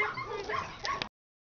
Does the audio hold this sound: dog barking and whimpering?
yes